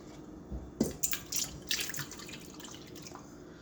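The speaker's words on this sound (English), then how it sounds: "I'm adding in 1 cup of milk. And we're going to mix the wet together." Milk pours into the wet ingredients for an oil-based chocolate cake, with a few close, soft splashy drips and trickles over about two seconds. The kitchen is otherwise quiet.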